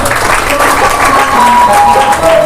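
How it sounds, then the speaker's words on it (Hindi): Steady crowd applause at a Kabir bhajan satsang at a school, dense and continuous, with a faint tone or voice running underneath. "सबके लिए जोरदार ताली बजाओ"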